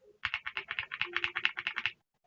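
Brisk run of about a dozen even keystrokes on a ReDragon K719 mechanical keyboard fitted with stock Mambo switches and stock keycaps, close and clear, then stopping into silence.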